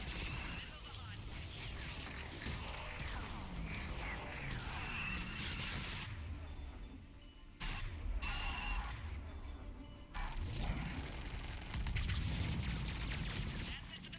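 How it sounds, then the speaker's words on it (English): Missile launches and explosions in the sci-fi shooter Mass Effect 3, a dense stretch of booms, whooshes and mechanical clatter with sharp bursts and brief gaps, and a voice talking at times over the noise. "Missiles are hot."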